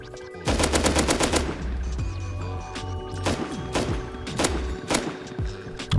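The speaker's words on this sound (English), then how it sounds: "Who's he shooting at?" Automatic and single gunshots from a Rust survival game firefight, loud bursts of rapid fire in the first second and a half followed by separated sharp shots, over a steady ambient background.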